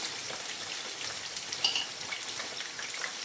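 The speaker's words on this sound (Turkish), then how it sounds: "Biraz da ununla şöyle kavurayım." A mixture of eggplant, tomato paste and flour sautés in a pan, giving a soft, steady crackling sizzle with faint pops and a few light scraping stirs, close but quiet.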